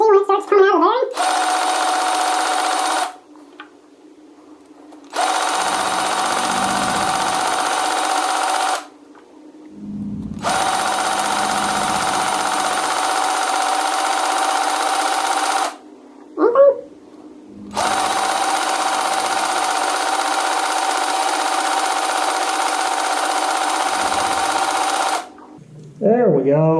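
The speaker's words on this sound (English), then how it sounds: "Pump some grease and then just check to see when it starts coming out of the bearing" A grease gun pumps grease into the wheel bearings of a Ford F-250. It makes a loud, close mechanical whir in several long bursts of a few seconds each, separated by short quiet gaps.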